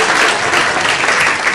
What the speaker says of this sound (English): Give me a applause for Mike Ostgaard